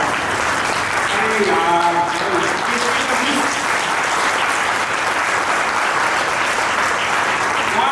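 A crowd at an awareness camp in Nashik breaks into loud, sustained applause, with a voice briefly audible over the clapping early on.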